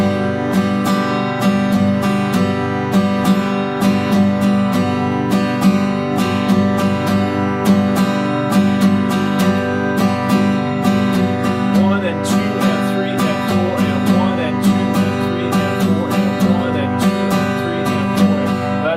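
A guitar strummed in a steady, even eighth-note rhythm of down and up strokes, chords ringing clearly and close with regular strum attacks.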